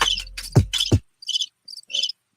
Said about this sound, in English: Oh, we do have crickets.